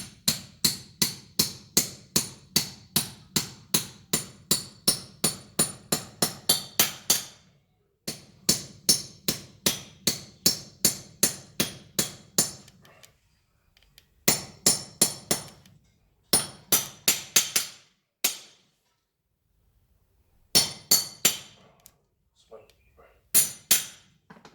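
Hammer knocking metal bolts into drilled holes for an anchor point installation: bursts of sharp, ringing metallic strikes in quick steady rhythm, close and loud, separated by short pauses, with occasional speech between.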